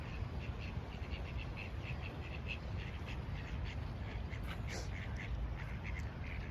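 Ducks quack in quick, repeated calls at moderate distance outdoors among flowering plants, faint but steady over a low background hum, with a person talking nearby.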